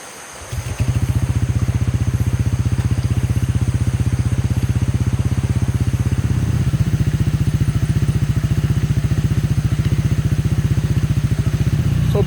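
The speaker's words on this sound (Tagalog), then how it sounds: "So binuksan muna namin yung motor para mag-charge yung power bank." A motorcycle engine starts and settles into a steady, close idle at a riverside campsite, running to charge a power bank with an even rapid pulsing clatter throughout.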